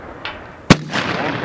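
A Marine Corps SMAW shoulder-launched rocket fired on a range: a single sharp, loud blast followed by a rushing, rumbling tail, with a short shout just before it.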